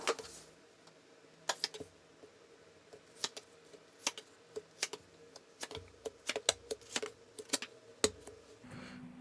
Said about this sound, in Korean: 제가 카드 뽑아 볼게요